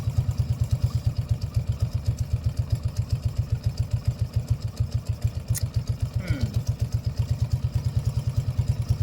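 A Yamaha 80cc four-wheeler with a newly installed carburetor idles nearby with a steady, rapid, thumping putter, holding an even rhythm throughout.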